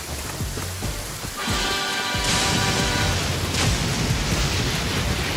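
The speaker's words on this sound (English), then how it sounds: "You hear the sound of thunder?" Heavy rain hisses steadily while a deep roll of thunder builds and swells, loud and enveloping, with no voices over the storm.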